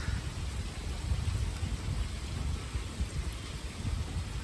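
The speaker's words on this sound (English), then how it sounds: "Even it's thundering outside," Low rolling thunder rumbles beneath a constant roar of heavy rain and hail in a severe thunderstorm, the deep swells rising and falling without any talking.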